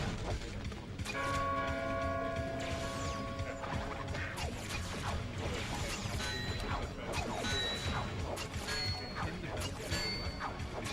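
A swinging bell in the Crash Twinsanity video game, heard as busy mechanical clanking and ratcheting with ringing metallic tones, dense game sound effects running for the whole stretch.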